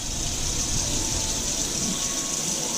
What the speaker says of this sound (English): Just put a little bit of extra water in there.